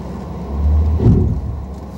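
Mazda3 engine straining as the car tries to climb an icy, snowy hill, a low droning rumble that swells briefly in the middle, with no voices.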